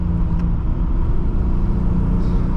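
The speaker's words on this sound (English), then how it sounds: "Actually got some good intake noise off throttle." A 1985 Nissan 300ZX driven hard over a hill, its engine giving a steady, loud intake rumble off throttle, heard from inside the car with no talk.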